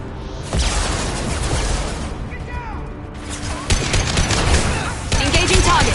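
Rapid gunfire and bursts of weapon shots in the Mass Effect 2 video game, dense crackling volleys continuing nearly throughout, with voices calling out over the fighting.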